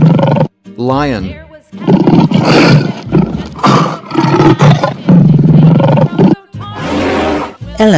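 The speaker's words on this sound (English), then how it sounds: "Lion." A lion roars and growls in several loud, rough bursts with short pauses between them, heard close up. A person's voice may come in between some of the roars.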